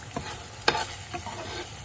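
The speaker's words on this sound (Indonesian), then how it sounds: "Ini mesti sering-sering diaduk," Chili balado paste frying in plenty of oil while being stirred, a bubbling sizzle punctuated by a few distinct spatula scrapes, one sharper clack near the middle.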